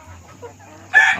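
A chicken lets out a single loud, sharp call near the end, after a quiet stretch with a low steady hum and faint background clucks.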